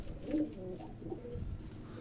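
An older breeder pigeon gives a soft, low cooing call held close by, a short throaty burble near the start followed by quieter murmuring, with no talk heard.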